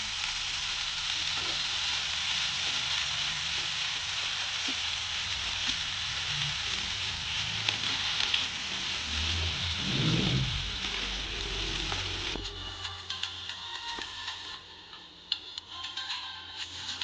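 Bottle gourd peel chutney with salt and coriander leaves fries in a pan, a steady close sizzle running throughout with occasional ticks of a spoon stirring, and a brief louder scrape near the middle.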